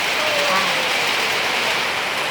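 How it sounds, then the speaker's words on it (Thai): Heavy rain pouring down outdoors, a dense steady hiss of drops that holds unbroken and fairly loud across the whole stretch. "ฝนตก ตกหนักเลย"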